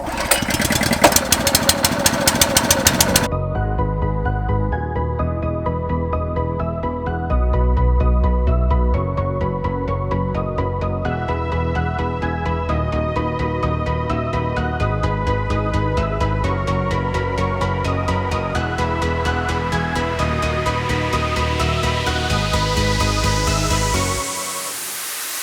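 A small gas-powered trencher engine starts after a pull on the recoil cord, opening with a burst of rough sputtering, then settling into a steady, loud mid-pitched idle and running that rises toward the end before it cuts off.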